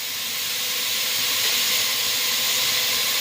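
Onions sizzling in a frying pan with tomatoes and garlic for a black-eyed pea stew base, a continuous loud, even hiss with no pauses, close up and uninterrupted by talk.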